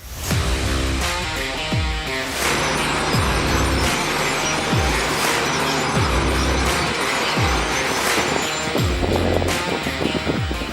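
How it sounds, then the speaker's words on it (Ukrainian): An MV-10 mechanized demining machine works at close range: a loud, dense, continuous mechanical roar broken by repeated heavy thumps at a fairly regular pace, with no voices. "Зараз ми з вами бачимо, як працює машина механізованого розмінування МВ-10."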